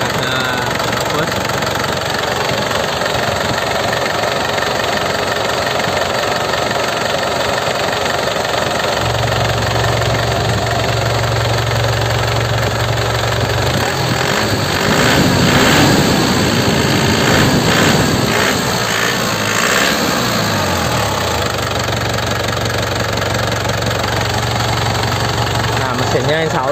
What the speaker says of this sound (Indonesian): Mesinnya insya Allah aman ya, termasuk sehat, nggak ngobos. Jadi suaranya, stasionernya juga enak ya, stabil stasionernya